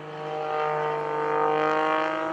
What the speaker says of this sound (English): His engine working hard.